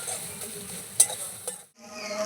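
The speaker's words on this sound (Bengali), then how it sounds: "দিয়ে দেবো একটু হলুদ নুন দিয়ে ভালো করে কষাবো" Cauliflower stalks with turmeric and salt are stirred in a hot pan, giving a soft steady sizzle broken by a few sharp scraping clicks of a utensil, then a brief pause before the frying resumes.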